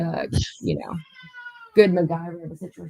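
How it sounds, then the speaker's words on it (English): A pet cat meows in the background of a conversation, its drawn-out, wavering call lasting close to a second and rising clearly between stretches of talk. "I'm sorry about my cat."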